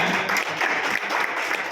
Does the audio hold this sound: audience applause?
yes